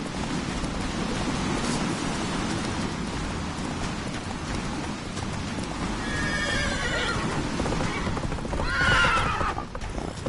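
A horse in The Witcher 3 neighs and whinnies loudly over steady galloping hoofbeats and rushing wind-like noise, with the whinnies standing out near the end.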